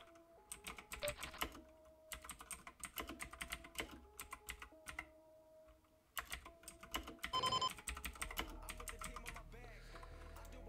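Typing on a computer keyboard while writing a note, with clusters of quick clicking keystrokes coming in uneven bursts and pauses, close and fairly soft, alongside brief electronic chime tones.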